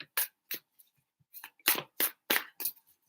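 Tarot cards are shuffled in short, crisp papery bursts, close and separated by brief silences, with several rapid flicks bunched toward the end.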